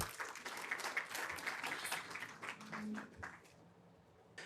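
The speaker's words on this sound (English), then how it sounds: "Can you give him a round of applause?" An audience at a panel discussion on startup funding in Africa breaks into steady applause that thins and fades out near the end.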